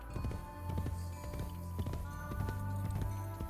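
Horse hooves in the video game Assassin's Creed Brotherhood clip-clop in a quick, even rhythm close by, each strike sharp and clear over a low background hum.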